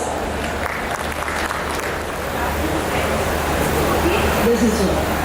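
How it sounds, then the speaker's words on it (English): An audience at an architecture and landscape design talk applauds to welcome a speaker. Dense, steady clapping fills the whole stretch and swells slightly toward the end, with a faint murmur of voices beneath it. "Let's welcome her with a big round of applause"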